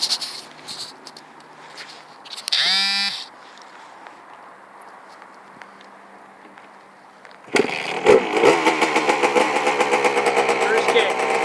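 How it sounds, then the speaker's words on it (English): A 1999 Suzuki RM80 dirt bike is cold-started without the choke: a voice and quiet surroundings come first, then the engine suddenly catches and runs loud and raspy with rapid pulsing revs close by. "I'm going to give it a cold start here, and I'm not going to use the choke."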